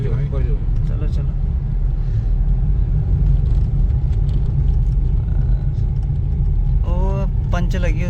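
A car engine rumbles steadily while the vehicle is maneuvered into a parking spot at a roadside stop, a loud, continuous low drone with people talking over it now and then.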